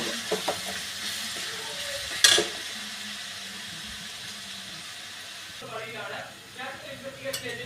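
Onions are sautéed in a pan for chicken curry, with a soft, even frying hiss, a sharp utensil clink early on and stirring scrapes near the end, under quiet background voices.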